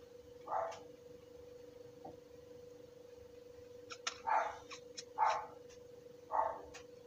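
A dog barks four times at uneven intervals, somewhat distant, over a steady electrical hum.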